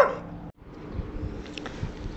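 An old dog at a Spanish animal shelter gives a few soft, high whimpers and yips at the start, then quieter faint whining and shuffling, close by and low in level.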